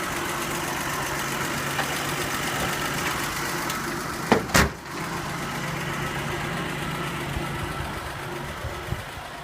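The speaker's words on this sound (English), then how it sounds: "Walk around the back and hear the exhaust note." A 1947 Dodge WD-15 pickup idles steadily with a low, even exhaust rumble heard up close, broken midway by a brief sharp knock or bump before the engine settles back into its quiet, rhythmic idle.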